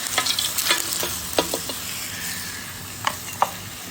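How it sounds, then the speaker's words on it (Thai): Steady hiss of hot oil sizzling in a pan, with sharp clinks and scrapes of a utensil stirring, close up. "หลังจากใส่ชูรสแล้วเราจะราดน้ำมัน"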